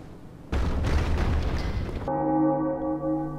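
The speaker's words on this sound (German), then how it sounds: "So, das war der Gong." A deep gong bell from the video game Bloodborne strikes once after a burst of loud rumbling noise, then rings on with a sustained, humming tone that lingers to the end.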